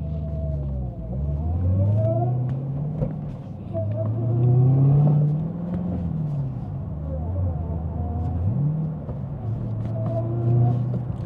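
A manual-transmission Dodge Challenger Hellcat accelerates and shifts gears, its deep, loud engine rumble climbing in pitch, dropping at each shift, then climbing again, recorded close by.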